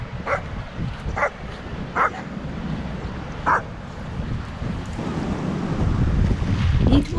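A strong gale roars across a Cornwall beach, buffeting the microphone in a constant rumble. Surf is mixed in, and a dog gives a few sharp barks in the distance.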